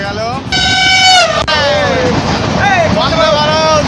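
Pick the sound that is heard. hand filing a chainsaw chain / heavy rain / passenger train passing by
passenger train passing by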